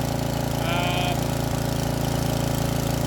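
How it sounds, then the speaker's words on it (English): A Briggs & Stratton engine on a scarifier warms up on partial choke, a loud, close, steady throbbing idle with a regular pulse and no pauses. "These Briggs & Stratton, they're all different. Some you can start, get rid of the choke immediately. This one, it appears you need a little bit of choke just to warm it up"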